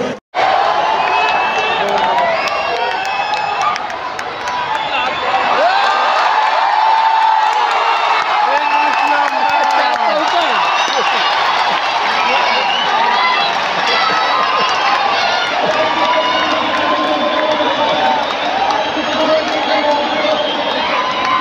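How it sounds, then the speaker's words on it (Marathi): A packed stadium crowd at a women's T20 cricket match between India and West Indies roars, whoops and claps in a loud, unbroken wall of cheering that swells and continues for the whole stretch. "टाळ्या वाजवत आहेत आवाज केले ते."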